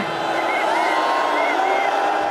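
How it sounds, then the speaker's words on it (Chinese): Football fans in a Hong Kong stadium at an Inter Miami friendly chant Messi's name: a steady, loud mass of crowd voices with a rising and falling chanted tone, sustained for a couple of seconds. "球迷一直喊梅西的名，希望能看到这大名车上场"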